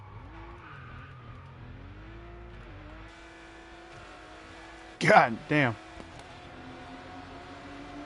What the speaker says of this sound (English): Oh man, this car's sound in the tunnel.